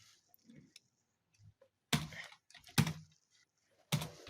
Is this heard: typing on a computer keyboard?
yes